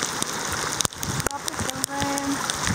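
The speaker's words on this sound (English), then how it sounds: "Tropical rain." Steady tropical rain in the Maldives pattering densely on surfaces, with a few sharper drips and a faint tone passing underneath.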